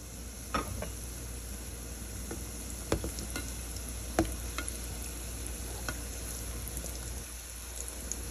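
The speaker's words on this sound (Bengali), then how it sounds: "এখন একটু ভাজার পালা" Small samosa-style singaras frying in hot oil in a home kitchen, a steady soft sizzle with a few sharper crackles and pops spread through, close and without talk.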